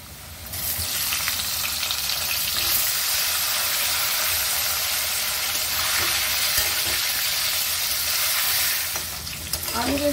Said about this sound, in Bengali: একই তেলে আমি আলুটাকে একটু ভেজে নেব